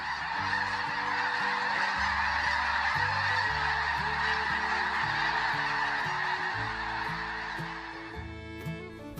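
A flock of wild geese, farmland pests that damage agricultural crops, honks in a dense, overlapping chorus that carries on steadily with no pause.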